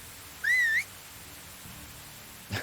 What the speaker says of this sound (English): Whistle your mount.